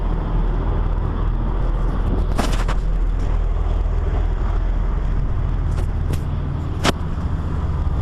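An old double-decker bus idles loud and close, its engine holding a steady low rumble with only a slight lift in revs and a few brief hisses over the drone.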